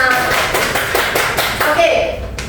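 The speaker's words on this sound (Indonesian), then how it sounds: "Tepuk tangan dulu buat kita semua." Classroom applause during an elementary science microteaching lesson on light, a brief burst of many hands clapping close by, fairly loud and dense, fading near the end.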